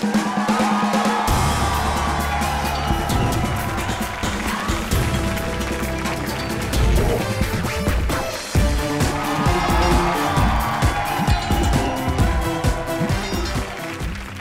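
A studio audience on the Indian comedy show Comedy Nights Live breaks into loud, sustained applause and cheering that runs the whole stretch, layered with music.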